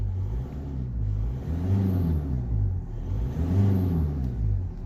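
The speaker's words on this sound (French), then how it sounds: "Donc déjà on entend beaucoup mieux le moteur." A car engine idles low and rumbles, then revs up twice in rising surges before settling back, close and steady with no talking.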